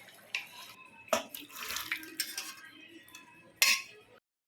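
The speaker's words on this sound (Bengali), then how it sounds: "ঘরের রান্নাবাড়ির বাসন মাজা টাজা সব হয়ে গেছে।" Dishes and utensils being washed with water after home cooking in a household kitchen: metal pots and cutlery clatter and scrape in irregular bursts over running, splashing water, close and fairly loud, with no talking.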